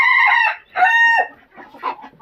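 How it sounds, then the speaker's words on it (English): A baby Silkie chicken crows close by in a few strained, raspy bursts, each one breaking off, followed by softer clucking. "That is a baby Silky right there. He is going off."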